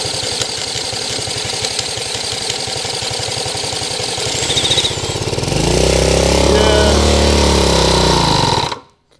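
A seized Honda CL90 motorcycle engine sputters to life and runs with a rapid, steady chugging, then roars louder and rougher before cutting off abruptly near the end.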